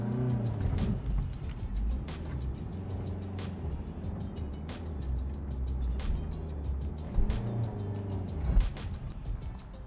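Suzuki Grand Vitara crawling over rocky off-road terrain, a low engine drone with repeated sharp knocks and clatters from the tyres and underbody striking rocks at irregular intervals.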